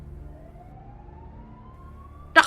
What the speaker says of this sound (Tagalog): Nako, nandito na yung ambulansya.